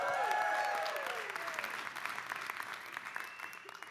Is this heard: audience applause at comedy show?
yes